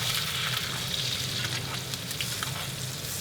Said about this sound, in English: I'm just going to let that butter melt a little bit and then I'm going to start basting it.